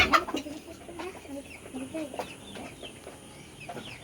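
Farm chickens, a mix of broiler and native birds in a tin-roofed shed, cluck softly and intermittently while resting after feeding, with scattered faint calls in a quiet, moderately distant setting.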